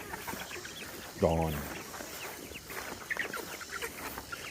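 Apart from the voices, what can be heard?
chickens clucking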